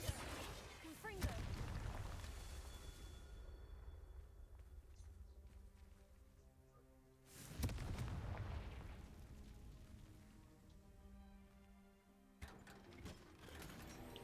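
Confringo fire spell explosions in the video game Hogwarts Legacy, two loud booming blasts several seconds apart, each followed by a rumbling decay, with game music and ambience between them.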